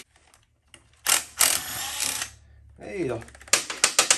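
Ratchet wrench working on bolts of a Honda XL70 engine during teardown, a few bursts of metallic clicking and scraping with a quick series of sharp ratcheting ticks at the end; someone speaks briefly in between.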